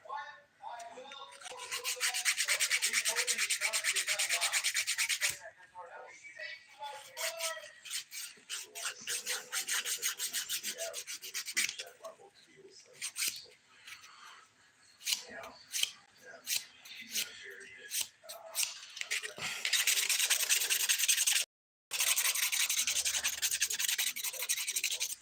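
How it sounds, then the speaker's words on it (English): Fingernails being buffed and smoothed after dip powder, with close, brisk rasping strokes in bursts, some long continuous passages and shorter choppy rubs, with brief pauses between. "Just smoothing the surface of my nails out too."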